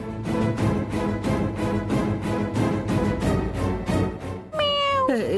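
A cat meows loudly and repeatedly in a drawn-out, wavering cry, with a steady rhythmic background beneath it.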